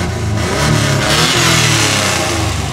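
Fiat 130 car engine revving up loudly and steadily, a close, continuous throaty roar rising and holding for a few seconds with no talk over it.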